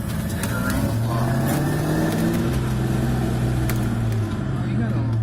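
A 1998 Ford Mustang SN95 with the 4.6 V8 and manual transmission drives around the block, its engine droning steadily from inside the cabin with rising and falling pitch as it accelerates, while people talk over it.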